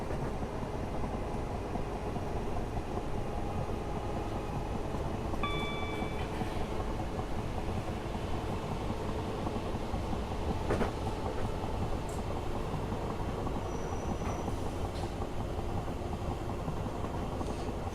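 Class 455 electric train running on a South London line, a steady continuous rumble of motors and wheels close by with faint high whines, no talking.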